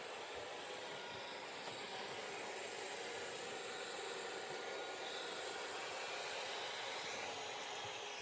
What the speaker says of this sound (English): it has the automatic vacuuming, where when it senses carpet, it'll increase its suction like this one